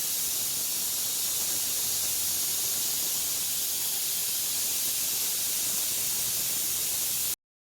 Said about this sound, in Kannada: ನೋಡಿ 4 ವಿಸಿಲ್ ಕೂಗಿದೆ.